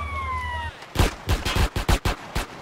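Short bursts of rapid gunfire crack out in GTA San Andreas on Xbox 360, a quick run of about eight shots that follows a brief moment of game ambience.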